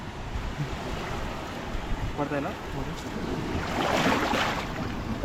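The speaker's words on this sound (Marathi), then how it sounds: "लाट पण मारायला सुरुवात झालेली आहे" Sea waves wash in at the shore during prawn fishing near Mumbai, a broad rushing surf with wind noise, swelling louder toward the end, while a person talks over it.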